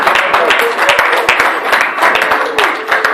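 A church congregation applauding during a worship service: dense, steady clapping from many hands, sustained and fairly loud, with crowd voices mixed in underneath.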